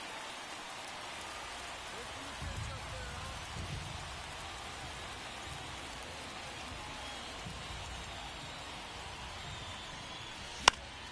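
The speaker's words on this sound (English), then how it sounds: "This rain is not letting up." Steady rain falls in a baseball video game, a soft continuous hiss through the whole stretch, faint and even, with a single sharp click near the end.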